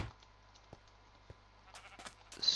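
Sheep in the game Minecraft give a short bleat near the end, after a mostly quiet stretch with a few faint taps and clicks.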